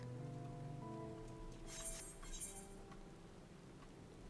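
Soft, steady rainfall in Final Fantasy XIV, a faint even patter with a couple of brief brighter splashy bursts partway through and no talking.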